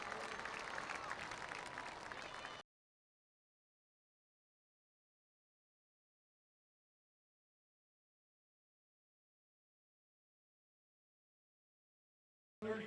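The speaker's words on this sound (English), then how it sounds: "one final round of applause for homecoming queen Sarah Parker and the 2016 Mount Carmel area homecoming court" A crowd applauds the homecoming queen and court at a 2016 Mount Carmel Area high school football game, with a dense burst of clapping and cheering for about two and a half seconds before it cuts to silence.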